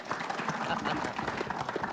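Audience members at a TV variety show clap together after a band performance, producing a short, busy patter of applause beneath a loud voice talking over it.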